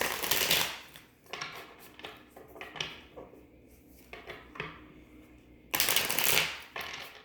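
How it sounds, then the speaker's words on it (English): Cards riffle and shuffle in several quick bursts, close and fairly quiet, with soft handling clicks between. "I like to shuffle on camera just for good measure, just a few more."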